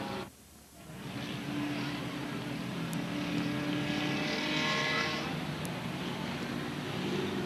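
Race cars circling the track at Star Speedway, a distant, continuous engine roar that swells and holds after a brief quieter dip, heard faintly from afar with no talk over it.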